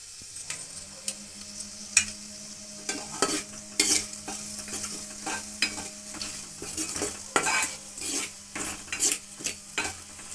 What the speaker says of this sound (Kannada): ಒಂದೆರಡು ಸೆಕೆಂಡ್ ಹುರ್ಕೊಳ್ಳೋಣ. ಇವಾಗ ಜೀರಿಗೆ ಮೆಣಸಿನ ಪೌಡ್ರ್ ಹಾಕ್ಕೊತಾ ಇದ್ದೀನಿ.